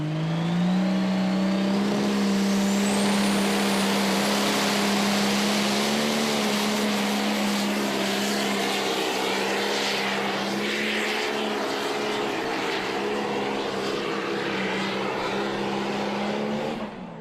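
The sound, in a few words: Pro Stock pulling tractor Whiskey Wild engine at tractor pull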